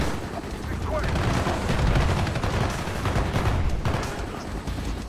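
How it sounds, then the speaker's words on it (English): Shotgun fire in Call of Duty Black Ops, loud repeated blasts amid a thick, continuous din of battle noise, with a voice talking underneath at times. "Oh, it's a shotgun."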